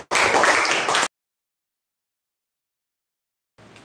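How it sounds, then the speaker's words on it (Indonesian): A classroom of pupils breaks into a short, dense burst of clapping lasting about a second, followed by silence and a faint return of sound at the end. "Oke, baik, tepuk tangan untuk kita semua"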